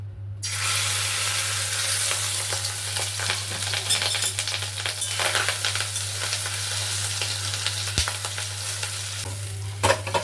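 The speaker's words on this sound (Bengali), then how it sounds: "তেল গরম হয়ে গেছে, এবার দিয়ে দেবো মাছের ডিমটা।" Fish roe drops into hot oil in a home kitchen and fries with a loud, steady sizzle. Occasional stirring scrapes rise above a constant low hum.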